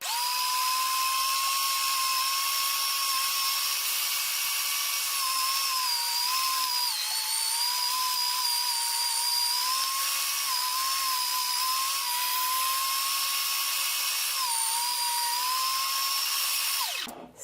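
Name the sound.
electric meat grinder grinding short ribs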